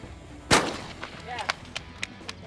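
Shotgun fires once at a clay target, a single loud close blast followed by a sharp crack and a faint whistle, then several light ticks and knocks in an outdoor field.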